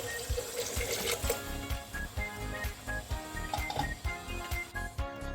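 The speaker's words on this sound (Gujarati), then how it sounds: "હવે તેમાં ચોખા ડૂબે એટલું પાણી એડ કરી દઈશું।" Water pouring over rice into a metal pressure cooker with a steady rushing flow and rhythmic glugging pulses, fairly close.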